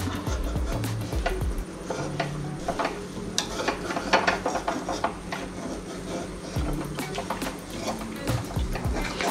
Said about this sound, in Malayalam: അവൾ ഇളക്കിക്കൊണ്ടിരിക്കുകയാണ്